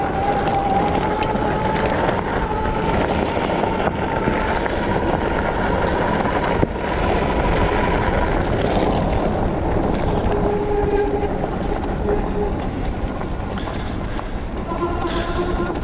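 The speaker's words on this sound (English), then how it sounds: "I'm using just the throttle now, not pedal assist, just so you can kind of see the speeds we can get going to here" A Rattan Fat Bear Plus fat-tire electric bike running on throttle alone along a trail gives a continuous, loud rolling rumble of tires and wind, with a steady motor whine that shifts in pitch as it gathers speed.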